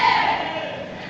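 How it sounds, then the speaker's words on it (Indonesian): A church audience at a leadership training sermon cheers and shouts together in a loud, dense crowd roar that fades slightly over a second, with clapping blended in. "Bersorak-sorai, tepuk tangan dulu."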